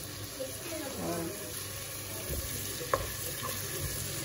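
Radish sambar stirred in a frying pan, with steady sizzling and a soft scrape of the spoon that runs through the whole clip and a single sharper tap near the end.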